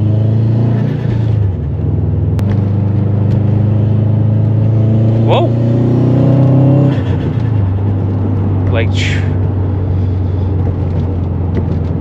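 A tuned Subaru WRX STI with full bolt-ons and a dyno tune revs and accelerates, a loud, steady engine drone that climbs and shifts, with brief exclamations from people over it.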